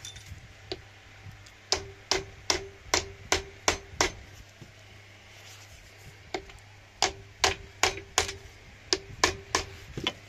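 Tool taps on a part of a Honda NH80 scooter during restoration, sharp metallic strikes in quick rhythmic runs of several hits with short pauses between groups, close and fairly quiet.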